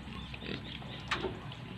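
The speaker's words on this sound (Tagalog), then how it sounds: "Ito pala yung mga biik nila ka-backyard na winalay na natin." Crossbreed and pure native piglets grunting in a backyard pen, a continuous low chorus of snuffling grunts with one sharper squeal partway through, close by.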